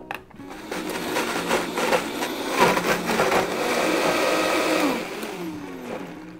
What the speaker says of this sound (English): I'm gonna pop it into our blender.